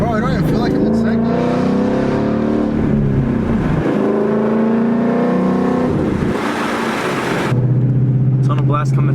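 A 2018 Mustang running on E85 revs and pulls hard, its engine tone climbing through gears with a shift break midway, loud and close from inside the car, ending in a lower steady drone.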